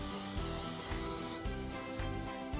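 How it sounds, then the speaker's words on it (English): A close, steady hiss of non-stick aerosol cooking spray coating a cake tin, with short pauses and rubbing noises as the can sprays. "non-stick cooking spray."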